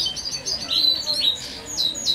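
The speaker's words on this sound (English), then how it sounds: "You can hear the bird song." Birds sing outdoors in the spring gardens of Kenilworth Castle, England, with repeated bright high chirps and whistles at moderate distance over soft ambient background.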